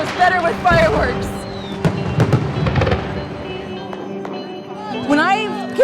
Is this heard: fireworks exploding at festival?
yes